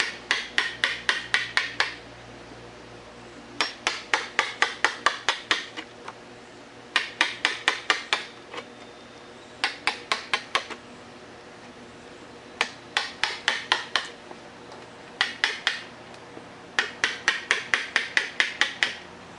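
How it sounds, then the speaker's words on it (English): Sharp chisel paring wood to a line while building a saw horse, heard as bursts of rapid, crisp, evenly spaced strokes in repeated groups, close and fairly loud, with short pauses between groups and no talk. "Good sharp chisel, you can pair to your line."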